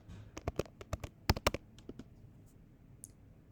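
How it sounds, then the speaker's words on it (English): A plugin name goes into a search bar as a short run of crisp, close keyboard clicks, quick and uneven, then a couple of sparse taps before it stops. "you'll go on the search bar and type in"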